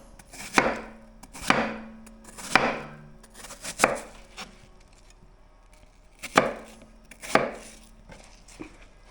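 Knife chopping apples on a cutting board while preparing an apple tart, a series of sharp, evenly spaced chops in two bursts with a short pause between, close and clear with no talk.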